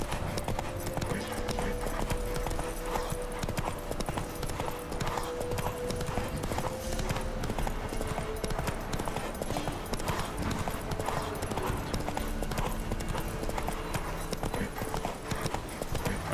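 A horse gallops steadily in The Witcher 3 video game, its rapid hoofbeats pounding in an unbroken rhythm under a soft musical backdrop.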